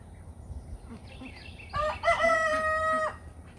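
A rooster crows once in a clear, moderately loud call amid a flock of chickens, with faint clucking and farmyard noise around it on a small farm keeping turkeys, ducks and geese.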